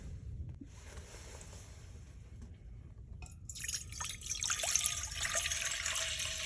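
Water pours into a cooking pot for egg drop soup, a quiet steady trickle that grows brighter and fuller as the pot fills, close up with no talking.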